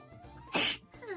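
A single short, sharp sneeze from an Umamusume anime character, voiced and close, followed by a small trailing vocal sound.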